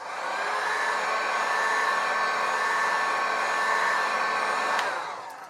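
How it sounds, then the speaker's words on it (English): A heat gun on its low setting warms resin, giving a steady, close blowing hiss with a faint whine that starts smoothly and cuts off after about five seconds. "I'm just going to warm the resin. This is a heat gun and I'm on the low setting."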